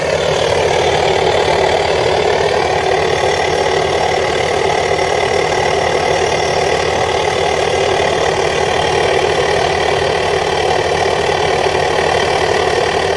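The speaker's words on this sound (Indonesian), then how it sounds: "Kita dengar bunyi knalpotnya." Bus engine and exhaust idling steadily and loudly up close, a continuous rumbling drone with a faint knocking texture and no talk over it.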